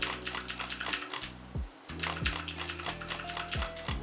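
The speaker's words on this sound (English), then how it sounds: "So you want to press D and click at the same time." A computer keyboard's D key is tapped together with mouse clicks in quick, irregular bursts of sharp clacks, close and clear with no voices.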